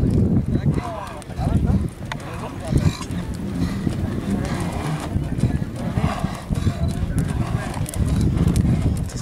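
Racehorses galloping in a match race at a country track in Mexico, hooves pounding in a steady drumming rush with loud crowd and commentator voices talking over it throughout.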